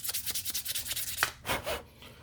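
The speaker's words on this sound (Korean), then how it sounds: "중요한 건 뭐냐면 사포에 힘을 너무 주면 안 돼요" Sandpaper rubbing over the leather of a luxury bag being restored, a quick series of short, soft rasping strokes followed by a couple of longer scrapes, close and quiet with no voices.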